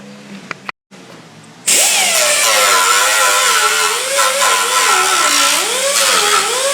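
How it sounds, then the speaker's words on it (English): A handheld air grinder cleans up a protruding edge on a 2022 KLR 650 windscreen, starting after a brief pause and then whining loudly and steadily close by, its pitch wavering up and down as the load on the tool changes. "Just use the air grinder"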